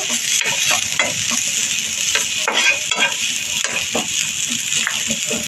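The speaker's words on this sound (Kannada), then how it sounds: "ಒಂದು ಅರ್ಧ ಈರುಳ್ಳಿ, ಒಂದು 2 ಸ್ಪೂನಷ್ಟು ತೆಂಗಿನಕಾಯಿ, ಒಂದು ಅರ್ಧ ಗೆಂಡೆ ಬೆಳ್ಳುಳ್ಳಿ ಚೆನ್ನಾಗಿ ಫ್ರೈ ಆಗಬೇಕು." Onion, coconut and garlic fry in a pan for Kundapura chicken gravy, a steady close sizzle with repeated scraping stir strokes and light clinks of the spoon against metal.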